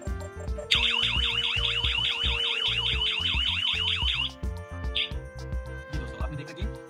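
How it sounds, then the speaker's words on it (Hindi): A loud Tuya home security burglar alarm siren warbles rapidly up and down for several seconds over background music and someone speaking. "ये जो अलार्म है इसको एक्टिवेट कर देगा"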